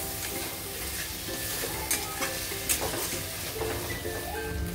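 Chicken with whisked yogurt being stir-fried in a pan for chicken yakhni pulao, a constant moderate sizzle with soft scraping stirs and a few light clinks, close up and with no talking.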